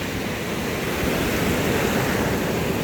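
Pacific Ocean waves breaking near a cliff make a steady, loud broadband roar of surf, continuous throughout with a slight swell in intensity midway and some wind rush mixed in.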